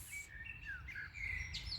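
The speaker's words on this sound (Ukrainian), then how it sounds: "Ти чуєш, як пташечка співає?" Songbird chirping from a tree outdoors in spring, a run of bright, high warbling phrases that rise and fall continuously over a low hum of background noise.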